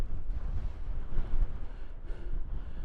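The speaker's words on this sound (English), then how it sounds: "just a little bit windy" Wind gusting across an open hilltop in the Shropshire Hills on an evening wildcamp, a steady low rumble buffeting the microphone with rising and falling gusts throughout.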